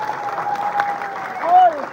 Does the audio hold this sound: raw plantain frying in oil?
no